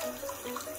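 Lukewarm water runs steadily from a tap during a bath for a pet armadillo girdle-tailed lizard, a soft continuous close-up stream with no talking.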